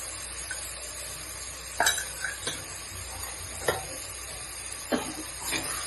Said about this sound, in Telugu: ఒకసారి కలిపేసుకొని మూత పెట్టేసి ముక్కలన్నీ ఉడికిపోతుంది.